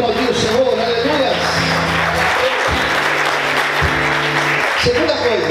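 Church congregation applauding during a sermon, a dense, steady roar of clapping that carries on throughout with no break, loud and close, while sustained tones, likely music, hum underneath.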